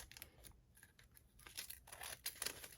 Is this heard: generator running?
no